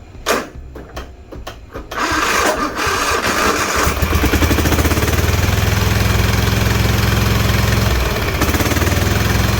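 A Kohler V-Twin 24 horsepower engine, freshly fitted with a new ignition coil, sputters through a few starting attempts, then catches and runs loud and steady on its own.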